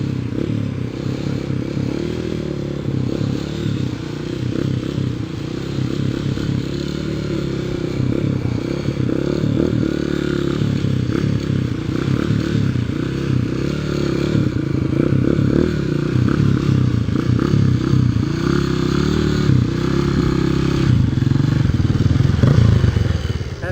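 Dirt bike engine running steadily at close range, the rider feathering the clutch to control power, with a continuous low mechanical drone and occasional clatter and scraping throughout.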